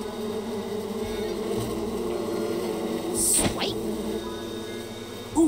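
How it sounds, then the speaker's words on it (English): Bees buzz around a beehive in the video game Psychonauts 2, a steady droning hum with a brief closer swell as one passes by, heard alone without talk. "Looks like a great place to get those bees for Compton."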